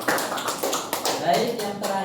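Classroom students clapping to reward a classmate's answer: a short, brisk patter of hand claps lasting about two seconds, close and fairly loud, with overlapping voices.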